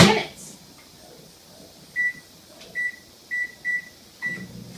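A microwave oven gives a short run of beeps, five clear tones spaced unevenly, after a brief clatter at the start, with a faint hum between them.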